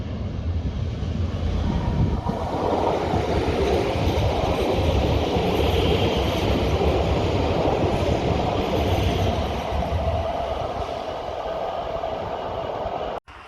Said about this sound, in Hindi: और ये ट्रेन का टनल में दाखिल होते हुए ज़बरदस्त सीन।